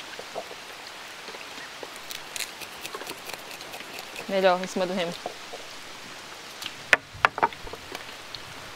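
Light rain patters on a riverside in the Amazon during a fishing outing, soft and steady beneath a voice and some tapping and handling noises.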